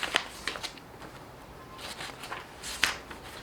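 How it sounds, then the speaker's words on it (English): Pages of a physical book are turned by hand, a few soft papery flicks and rustles close to the listener with quiet gaps between them. "There's just something about the sound of turning a page."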